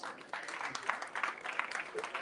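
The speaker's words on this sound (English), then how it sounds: "Let's give it a round of applause" A tech meetup crowd claps in a short, moderate burst, uneven hand claps heard at a modest distance in a room with some background murmur.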